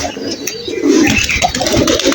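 Pigeons from Tangail cooing while eating grain, with low throaty coos rising and falling close by over a busy, noisy background.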